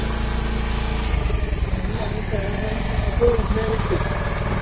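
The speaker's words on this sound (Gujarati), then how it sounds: "આ બીજા ભાઈ તો બાઇક ચાલુ કરી દીધી છે એમની, હવે જશે" A motorcycle engine runs at a steady idle on a village morning, a low continuous rumble heard close by under people talking.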